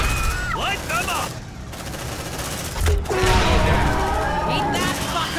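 Marines in Aliens: Dark Descent open up with sustained automatic gunfire inside a refinery, bursts chattering steadily over a busy game soundscape while voices shout over the shooting.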